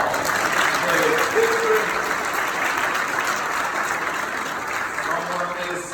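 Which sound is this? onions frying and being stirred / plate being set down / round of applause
round of applause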